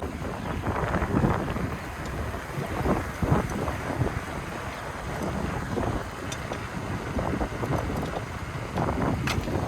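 Wind rushes across the microphone while cycling on a rough village road in Punjab, a continuous buffeting roar with gusty rises and falls and no talking.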